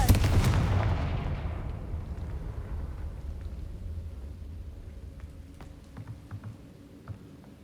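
A Confringo blasting-spell explosion in the Hogwarts Legacy video game: a loud, sharp boom at the start that rumbles and slowly fades over several seconds, followed by scattered faint crackles.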